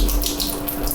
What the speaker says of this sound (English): Water maker's making water